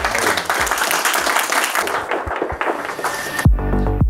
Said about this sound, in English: everybody give Dan a round of applause.